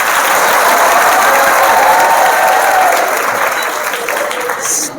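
A student seminar audience claps energetically on cue, a loud, thick wash of many hands near and far that stays strong for several seconds, then eases a little with a few scattered claps at the close.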